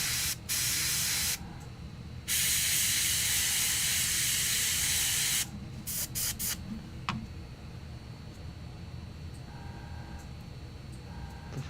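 Cheap $5 Walmart aerosol spray paint can hisses in two long loud bursts of roughly a second and three seconds, followed by several short sputtering spurts, while painting Warhammer Age of Sigmar miniatures.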